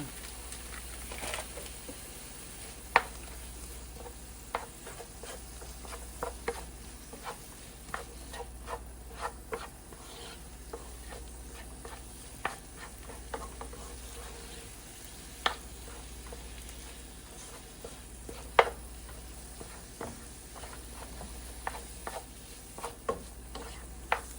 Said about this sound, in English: you want to stir it around so it mixes pretty well, and because you want to kind of saute it a little bit